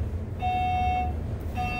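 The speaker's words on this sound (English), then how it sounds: "Like that beep." A Fujitec traction elevator in a SpringHill Suites hotel gives a clear electronic beep, a sustained tone followed a second later by a shorter second beep, over a soft background hum.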